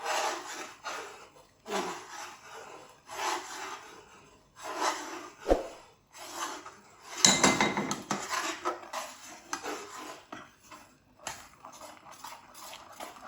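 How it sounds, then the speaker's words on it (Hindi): A spoon stirs milk in a pot while Peshawari kheer cooks, with irregular metal scrapes and knocks against the pot coming in uneven bursts and pauses, close and fairly quiet, without speech. "इस तरह आपने बीच में चमचा चलाना है, सारा मिक्स हो जाएगा"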